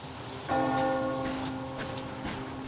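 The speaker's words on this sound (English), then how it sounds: "Do you hear that bell?" A church bell in the video game Metro Exodus strikes once and rings out with a long, humming decay, followed by a fainter second strike near the end, all over a soft rain-like hiss.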